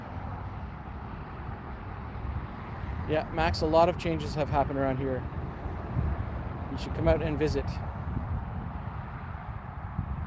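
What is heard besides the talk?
car noise in the background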